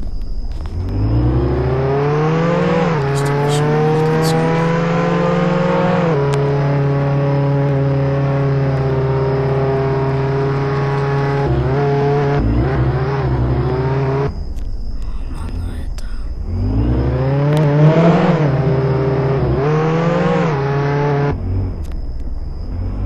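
A car spawned in the Roblox video game revs its engine loudly and continuously, with the pitch climbing and settling several times, close up and without talk.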